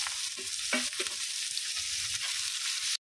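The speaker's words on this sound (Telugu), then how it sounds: "పచ్చిమిర్చి వేగిన తర్వాత ఆనియన్స్ కూడా వేసుకుని బాగా వేయించుకోవాలండి" Onions frying in a pan with green chilies, curry leaves and cumin, giving a continuous bright, hissing sizzle with a few soft stirring scrapes, close and loud before it cuts off abruptly.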